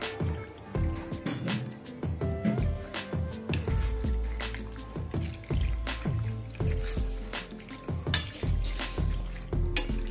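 Drained pasta is tipped into a creamy white sauce and stirred, producing repeated wet squelches, drips and spoon scrapes at a moderate, close level.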